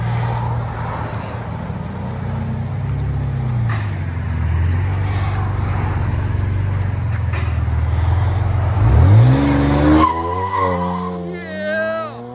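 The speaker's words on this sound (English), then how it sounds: "BMW Z4 with vibrant rear mufflers and carbon fiber tips" A BMW Z4 3.0L inline-six exhaust with Vibrant rear mufflers and carbon fiber tips rumbles steadily up close, then revs hard with a rising, sweeping pitch toward the end.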